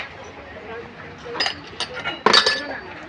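Copper drinking glasses clink against one another as they are handled in a household-goods shop, giving a few bright metallic taps and a brief cluster of louder clinks near the end over soft room noise and faint voices.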